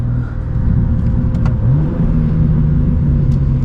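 A 2024 BMW M2 drifting on a driving school track, its engine droning steadily with a pitch swing midway, heard from inside the car at loud, constant level.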